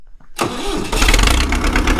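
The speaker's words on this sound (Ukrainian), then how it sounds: "навіщо ми е, запускали двигун другий раз" A tractor engine cranks and catches after fuel system repair, starting abruptly from silence with a loud churning burst, then settling into a heavy, close idle that keeps running, with no one talking.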